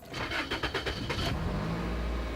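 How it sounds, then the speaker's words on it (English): A Toyota car engine cranks with a rapid chattering starter, then catches and settles into a steady low idle rumble, close by. "We'll start it up with the brake on"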